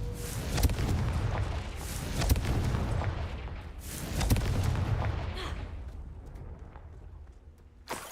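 Confringo fire spell from Hogwarts Legacy going off as a series of booming, rumbling blasts in a dense battle din that fades toward the end.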